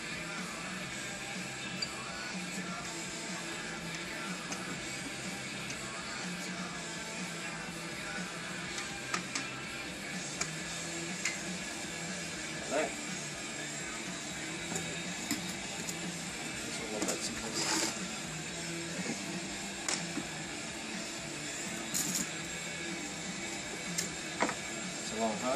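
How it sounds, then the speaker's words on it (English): A vibrating table shakes a secured flask during a Marshall mix design asphalt test, giving a steady mechanical buzzing hum with faint rattles, continuous and fairly quiet throughout. "The flask is secured to the vibrating table."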